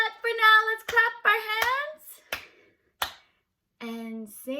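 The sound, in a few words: hands clapping at children's program goodbye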